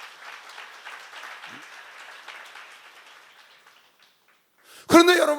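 An audience at a church seminar applauds in a dense, soft patter that slowly thins out and fades to near silence, followed by a sudden loud burst of someone speaking close by.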